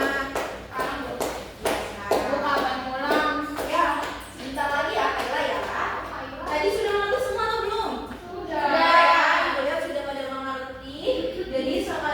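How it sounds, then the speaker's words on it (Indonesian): Children in an elementary school classroom clap together for their classmates, a short burst of close, sharp claps mixed with young voices talking. "Boleh tepuk tangannya untuk kita semua."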